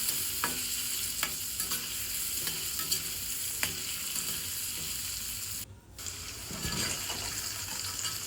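Potatoes with turmeric sizzle steadily in a frying pan for a vegetarian potol aloo korma, with repeated scraping stirs and clinks of a spatula and a brief pause partway through.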